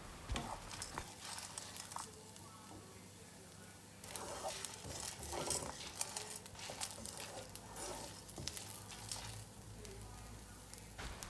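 Grated coconut roasting slowly in a pan on a low flame: a faint, soft sizzle with intermittent scraping stirs and light rustling, quiet and close, without talk.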